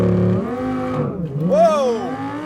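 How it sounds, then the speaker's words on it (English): A tuned Audi R8 V10+ launches hard under launch control, its engine note dipping briefly then climbing into a loud, rising rev sweep, close and continuous. "we're gonna do launch control here. Hard, right foot on the gas."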